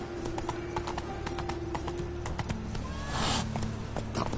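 Roach the horse trotting in The Witcher 3, a rapid, even clip-clop of hooves carrying on steadily from start to end, with a brief whooshing rush of game sound near the end.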